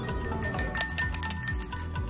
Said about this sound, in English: When we decide orders, we ring the bell to call the shop staff.